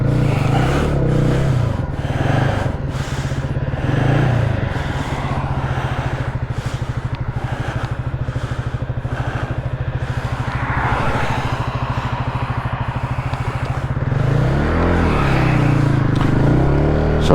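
A motorcycle engine runs steadily after a bump start, a loud low pulsing drone that holds throughout with small swells, heard close up while riding.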